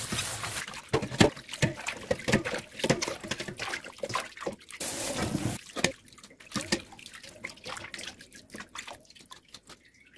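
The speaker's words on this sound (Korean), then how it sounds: "씻지 않고 데쳤기 때문에 3번을 씻어줍니다." Blanched sweet potato stems are rinsed by hand in water, with irregular splashes, drips and sloshing close by, busier at first and then sparser; no voices.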